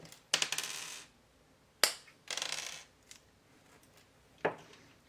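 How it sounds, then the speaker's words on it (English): Fasteners on a Smith Little Torch hose snipped off, several sharp metallic clips and crunches in short separate bursts, close and quiet between cuts. "first thing I'm going to do is cut these without cutting the actual hose"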